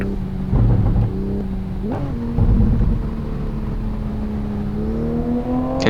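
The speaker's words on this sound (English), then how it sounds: "Can hear the burbling from your car." Car engine in a racing video game on the Shutoku expressway at night in the rain, burbling and droning steadily at close range, with pitch rising and falling as it revs and shifts.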